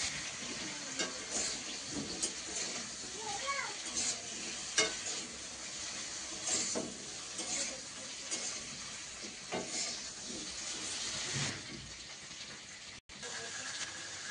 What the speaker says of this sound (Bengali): আলুটা ভাজতে ভাজতে